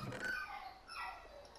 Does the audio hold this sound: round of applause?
no